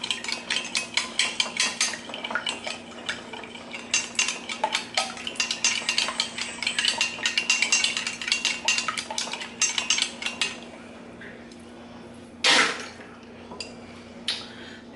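Egg wash with a splash of milk is whisked in a bowl, producing rapid, continuous clinking of a utensil against the dish that ends in a single louder knock, close and alone.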